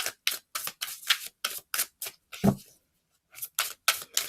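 Herbcrafter's Tarot cards are shuffled by hand in rapid, crisp riffle bursts with a brief pause, close and quiet.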